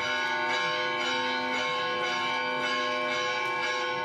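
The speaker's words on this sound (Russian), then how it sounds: "Колокольный звон собора Святого Георгия." Church bells of St. George's Cathedral ring continuously with rich, overlapping metallic tones, a steady resonant peal filling the whole stretch.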